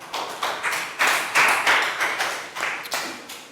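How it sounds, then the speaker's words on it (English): A classroom of children claps in a round of applause during a Year 3 maths lesson, a dense run of hand claps in repeated bursts that swell and fade over a few seconds. "Round of applause for Prel."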